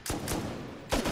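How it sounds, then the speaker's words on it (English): Rapid bursts of fire from a helicopter launching rockets in a video game. Two loud bursts land close together at the start and another comes near the end, with a steady, dense rumble of battle noise between them. "He's rocketing."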